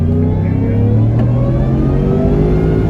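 A supercharged Ford F-150 pickup engine pulls hard under acceleration, a loud, steady low drone with rising harmonics heard from inside the cab, with no talking.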